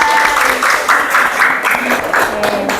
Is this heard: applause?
yes